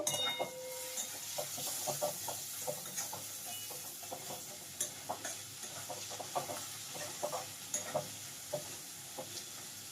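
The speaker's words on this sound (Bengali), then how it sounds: "এবারে আমি শুকনো খোলায় ভেজে রাখা জিরে আর ধনে গুঁড়োটা দিয়ে দিচ্ছি" A spoon scrapes in rhythmic strokes through sizzling masala in a pan after dry-roasted cumin and coriander powder go in, with frequent clicks against the metal over a steady low hiss.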